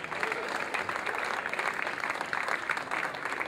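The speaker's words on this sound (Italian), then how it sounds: "Gli applausi!" An audience applauds at a talk event, a steady rush of many hands clapping at moderate volume that holds evenly across the moment without any voices rising above it.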